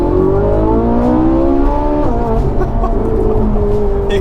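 A Ferrari 458 Italia V8 engine revs and accelerates loudly and close, its rising harmonic howl climbing through gears with a brief shift dip before pulling again.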